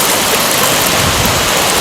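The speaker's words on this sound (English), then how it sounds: "we have a deep river there" Flowing water from a deep river beside a bird hide on stilts after a flood, a steady loud broadband rush with no pauses and no voices.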